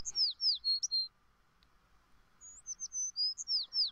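Bright birdsong chirps in quick clustered bursts, loud and close, with a quieter pause in the middle before another run of tweets and trills.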